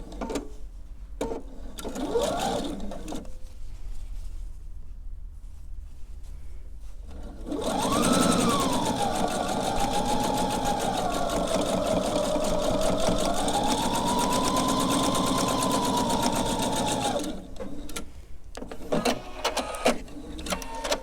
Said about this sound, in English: So I'm going to sew these together, and again I'm sewing it on opposite sides.